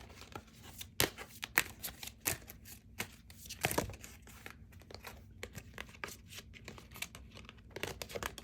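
Tarot cards from a Lesson Cards deck being shuffled and drawn, giving close, faint papery crinkles and irregular snapping flicks with a louder riffle burst midway, no voices.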